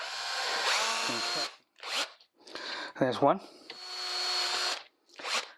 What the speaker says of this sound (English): So I'm just going to drill a hole through.